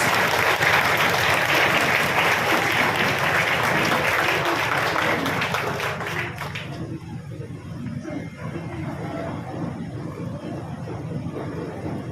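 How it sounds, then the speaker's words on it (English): Audience applause for a guest speaker at a junior high school moving-up ceremony, steady and full for about six seconds, then thinning into scattered clapping and room murmur. "Let's give him a round of applause."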